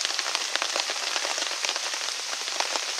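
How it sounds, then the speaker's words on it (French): Steady rain patters on a tarp at a bushcraft camp in the woods, a dense, even drumming of drops close overhead with no voices. "Et là ça pleut un petit peu plus fort. Je pense que vous devez entendre."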